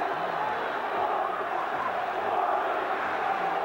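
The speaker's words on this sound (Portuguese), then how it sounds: "E a torcida do Corinthians dá uma demonstração de confiança, gritando Corinthians, Corinthians." Corinthians fans chanting in a packed football stadium in a 1999 Campeonato Brasileiro match against Palmeiras, a steady roaring wash of crowd voices, distant and sustained throughout.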